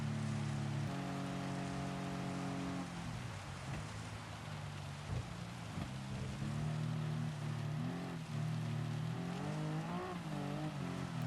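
Rain pattering over a race car's engine in Gran Turismo 7, the engine note droning and shifting pitch steadily throughout with no speech.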